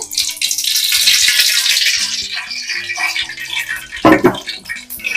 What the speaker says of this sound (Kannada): ನೋಡಿ ಇವಾಗ ಬಾಣಲಿಗೆ ಎಣ್ಣೆ ಹಾಕ್ತಾ ಇದ್ದೀನಿ